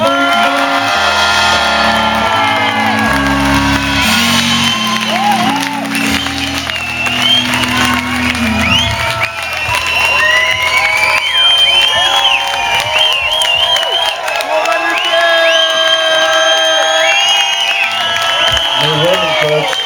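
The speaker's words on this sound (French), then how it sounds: "Je voudrais que vous fassiez un tonnerre d'applaudissements pour Monsieur Va-Nu-Pieds, s'il vous plaît." Concert crowd giving a thunderous round of applause and cheers for a performer, loud continuous clapping with whoops and shouts throughout, music playing in the opening seconds and voices calling out over the noise.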